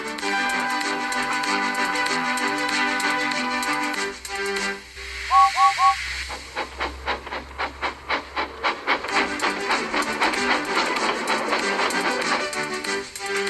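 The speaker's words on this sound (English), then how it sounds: "clouds of smoke and steam pouring from his funnel" A steam engine chuffing and hissing, its rhythmic puffs gradually speeding up beneath steady hissing steam, with a brief whistle and background music.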